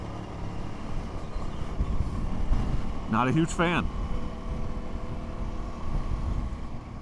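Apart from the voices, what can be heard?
strong wind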